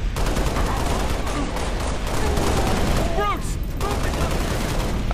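Rapid bursts of automatic gunfire in the Halo Reach video game, dense, repeated shots running nearly throughout, with voices talking over the fire.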